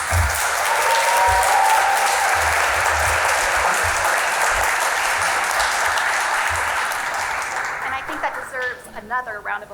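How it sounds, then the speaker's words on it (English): An audience at a university research lab day applauds a speaker with a long, sustained roar of clapping that thins out near the end as a voice begins talking. "applause just because he kept on time under 7 minutes"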